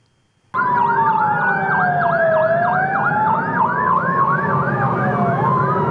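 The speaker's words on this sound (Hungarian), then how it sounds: "amely mostantól nagy kapacitású tűzoltóautókkal látja el a légikikötő védelmét" A high-capacity airport fire truck at Marosvásárhely airport sounds its siren, a loud, steady wail with a fast yelping pattern layered over it, starting abruptly and running continuously up close.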